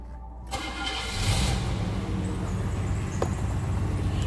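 A 1986 Cadillac DeVille Fleetwood engine cranks briefly and catches, then settles into a steady, rumbling idle, heard close up.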